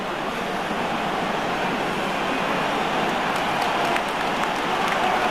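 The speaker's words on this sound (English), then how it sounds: "just listen to the crowd," A rugby stadium crowd at an Ireland versus New Zealand international keeps up a dense, steady roar that stays loud and unbroken throughout.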